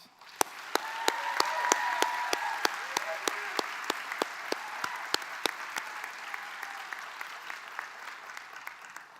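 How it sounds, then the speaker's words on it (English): A large audience at a college convocation applauds faculty and staff in a broad, hall-filling wash of clapping. One nearby clapper beats out crisp, evenly spaced claps above the crowd, and the whole sound slowly fades over about nine seconds. "Please join me in giving these folks a great big round of applause"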